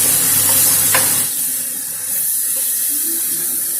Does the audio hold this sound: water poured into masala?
yes